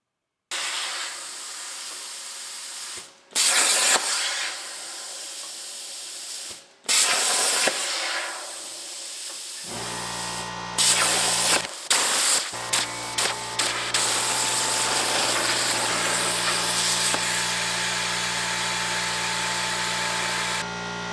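A home-shop CNC plasma table cuts a steel bracket: bursts of loud hissing spray separated by short pauses, then a sustained, roaring cut with a steady electrical hum beneath and crackling spatter, close and continuous.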